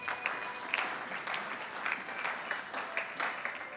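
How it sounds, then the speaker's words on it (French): Applause at a pastor's funeral gathering, moderately quiet clapping from a crowd with uneven individual claps standing out. "nous applaudissons, messieurs et dames"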